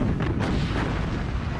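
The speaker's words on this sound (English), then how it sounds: "Bismarck opens fire." Main guns of the German battleship Bismarck firing, a dense continuous low rumble and boom that stays loud throughout, like heavy naval artillery rolling across the sea, with no clear gaps between the blasts.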